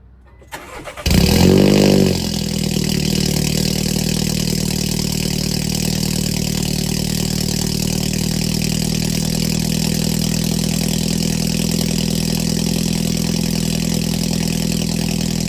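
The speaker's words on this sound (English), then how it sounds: "But now I'm just gonna give you a cold start." A Volkswagen Polo GTI engine cranks and fires up on a near-cold start with a brief rev surge, then settles into a steady, close idle that runs on alone.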